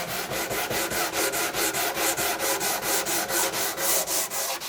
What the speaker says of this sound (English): I'm sanding using a 16-inch radius sanding block.